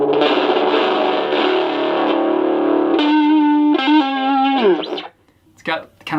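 A guitar through the Java cigar box amplifier rings with a warm overdrive, first a sustained distorted chord, then several clear ringing notes that fade out, followed by brief talking.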